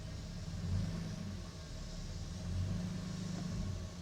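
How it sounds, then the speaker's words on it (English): A 2014 Nissan Frontier pickup's engine rumbles steadily close by, swelling twice as the truck eases forward and climbs up onto ramps, with no voices over it. "I'm gonna drive up on these ramps."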